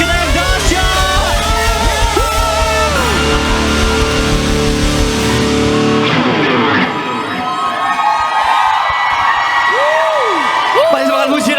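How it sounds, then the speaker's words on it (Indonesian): Crowd cheering, whooping and clapping at a church youth revival service, loud and continuous, with shouts and voices over it before fading somewhat toward the end. "Kita kasih tepuk tangan"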